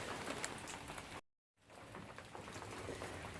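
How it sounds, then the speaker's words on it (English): Light rain patters steadily in a Massachusetts state forest, a soft, continuous hiss of drops on leaves and gear, broken by one brief gap of near silence. "So it's kind of raining a little bit"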